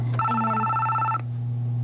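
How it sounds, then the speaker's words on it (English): An office telephone at a 1994 financial aid desk rings once in a single electronic burst about a second long, close and fairly loud over a steady background hum. "Let me get the phone just a minute."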